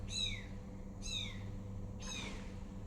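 A one-month-old kitten gives three high, thin meows that are evenly spaced about a second apart, over a low background hum.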